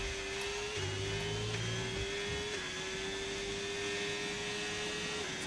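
F1 race car engines in the F1 25 video game at Spa, an Audi in career mode, give a steady high-pitched whine with small pitch steps. It runs continuously for the whole stretch over a low background hum.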